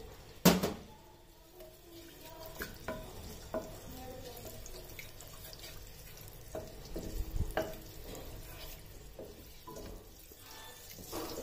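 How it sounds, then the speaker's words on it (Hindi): Green cardamom pods and fennel seeds fry gently in ghee in a pan for a jaggery rice dish, giving a soft, steady sizzle with occasional light stirring clinks and scrapes, close and fairly quiet, with no talking. "अब इसकी खुशबू आने तक इसे घी में इस तरह फ्राई सा होने देना है।"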